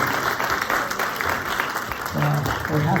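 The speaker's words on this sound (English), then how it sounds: "Let's give them a big round of applause." Applause at a memorial service, clapping from a gathered audience mixed with voices and some tonal sound, short and fairly close.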